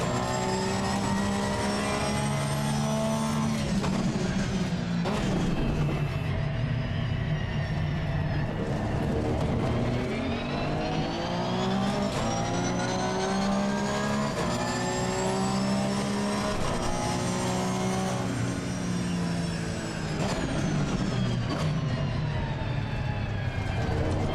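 Car engine in a sim racing video game revving continuously, rising and falling in pitch through gear changes and acceleration, loud and close with harmonic whine throughout.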